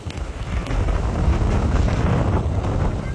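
Strong storm wind on a Black Sea beach at Constanța, Romania, buffeting the microphone in a constant low roar, gusting slightly louder through the middle, with no voices.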